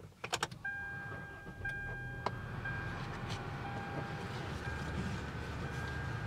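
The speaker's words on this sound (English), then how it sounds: "if we just turn on the vehicle" A 2013 Hyundai Elantra GT is started: several quick clicks and a brief whine as the ignition cranks, then the engine catches and settles into a quiet, steady idle heard from inside the car.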